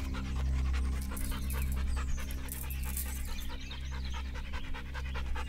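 A dog pants in quick, rhythmic breaths close to the listener, steady and continuous over a low, constant hum of suburban background noise.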